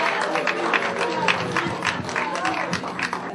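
Audience at an anniversary gala applauds a performing group, a dense, steady crowd clapping with cheers and voices mixed in throughout.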